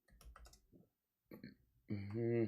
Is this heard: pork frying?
no